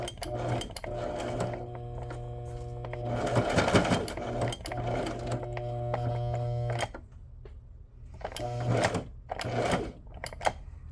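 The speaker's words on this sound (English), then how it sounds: "I'm struggling with my sewing machine today." A sewing machine runs in several bursts of rapid stitching with a steady motor hum, pausing briefly between runs, close and fairly quiet.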